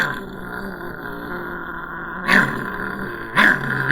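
A human voice imitates growling, with two short, rough rumbling growls spaced about a second apart over a quiet background.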